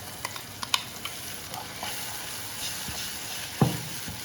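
Red chilli chutney (Chettinad varamilagai thuvaiyal) fries softly in a pan while a spoon stirs it, with a low steady sizzle and a few distinct scraping clicks against the metal.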